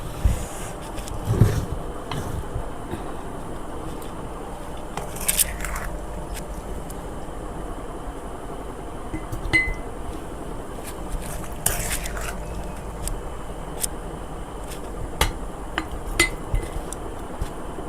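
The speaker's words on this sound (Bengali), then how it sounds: "জারের মধ্যে আমি এগুলো ঢেলে দিলাম আচারগুলা" Bamboo shoot pickle being spooned into a glass jar, with scattered light clinks and soft scrapes of utensil against glass over a quiet room background, a few sharper taps standing out.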